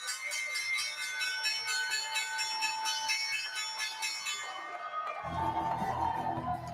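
A stock exchange closing bell rings on a Black Friday shortened trading session, a rapid repeated metallic clanging that runs steadily and then gives way to a low rumble of trading-floor noise near the end.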